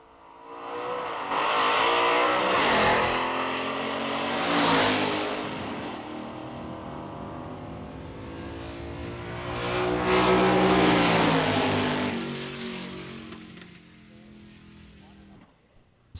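A 1960s muscle car makes a solo drag race run. A loud engine revs and roars through the gears, swells as it passes, and fades into the distance. An announcer's voice runs underneath.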